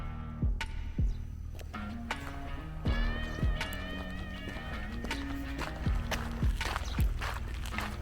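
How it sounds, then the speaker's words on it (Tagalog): Horses at a horse training farm move about, with repeated thudding hoofbeats at an uneven rhythm, close and fairly loud, over a steady background hum. "Yung mga kabayo. Kabayo."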